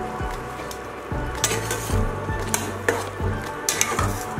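Taro stolons with mustard and poppy seed paste and green chillies are stirred in a pan, with a soft sizzle under repeated scraping strokes and occasional metallic clinks of the utensil, no talking.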